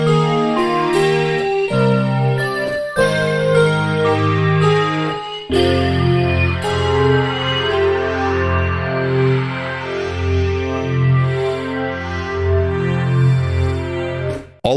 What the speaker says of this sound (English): All of the sounds in the Wavestation sound like this.